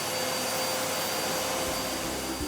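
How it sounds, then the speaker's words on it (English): A vacuum cleaner runs in a steady, loud, unbroken whoosh with a constant motor whine, alone and close throughout. "I need to vacuum my office"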